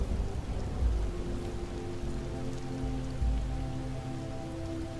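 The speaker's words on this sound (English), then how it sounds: "Watch each droplet fall, splattering against the ground outside and the fabric above you." Steady rain patters onto the ground and a fabric surface close by, a continuous dense hiss with occasional heavier drops and a low rumble underneath.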